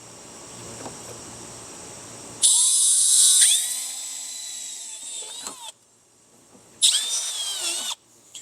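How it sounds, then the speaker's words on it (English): A power drill whines loudly in two bursts while boring a hole in a Rokblokz fender kit on a 2026 Kawasaki Teryx H2 UTV, the pitch dropping under load, with a quieter stretch and a few clicks in between. "our last hole to drill on the bottom will be right here"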